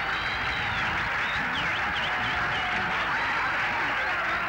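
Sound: spectators applauding a wrestler

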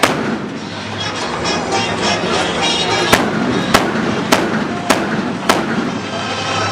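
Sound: gunfire from a Thai-made D-Iron attack robot during demonstration

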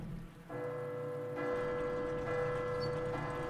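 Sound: bell ringing in Resident Evil 2 Remake video game

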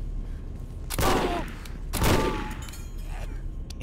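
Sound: gunshots in the video game Condemned: Criminal Origins

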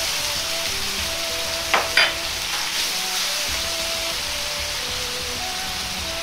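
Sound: daikon with tuna simmering in a pan

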